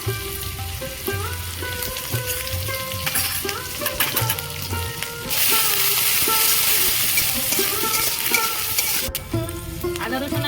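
Chopped garlic and ginger frying in hot oil in a pan, with a steady close sizzle that swells louder partway through as they hit the oil, alone with no talk.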